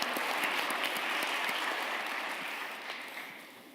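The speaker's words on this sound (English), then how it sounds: "we'll give a round of applause for our" Audience applause at a Saudi-Thai investment forum evening event, a steady wash of many hands clapping that fades gradually toward the end.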